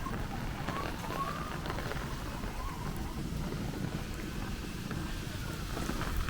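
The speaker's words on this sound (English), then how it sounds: "It's pretty good wind." Gusty wind blows through a Brooklyn street during a thunderstorm squall with rain, a steady roaring rush with buffeting against the microphone, continuous and fairly loud.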